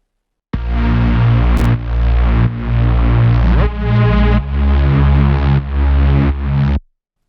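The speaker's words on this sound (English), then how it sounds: "first off, we have the top layer of the Reese bass" A thick, buzzing Reese bass layer from a synth in Ableton Live 11, with slowly shifting detuned movement, played as several sustained loud notes with short breaks before cutting off, no voices.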